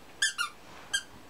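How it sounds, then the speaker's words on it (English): A puppy bites a squeaky toy, giving two quick high-pitched squeaks close together and then a third squeak a moment later, loud and close against a quiet background. "Got it to squeak."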